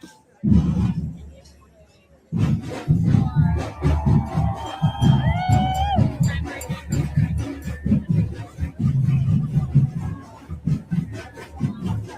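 Crowd at a No Kings Day rally in Burlington's City Hall Park, an outdoor murmur of many voices with scattered shouts and chatter, close by, following a brief quiet opening.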